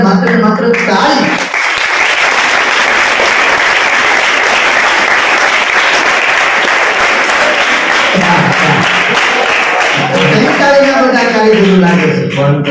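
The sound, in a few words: audience applause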